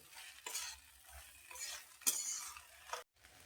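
Masala is stirred and mixed in a pan, with a few distinct scraping strokes of a spoon over a soft sizzle, close and fairly quiet, ending with a brief silence and a last light scrape.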